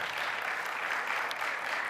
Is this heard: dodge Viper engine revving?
no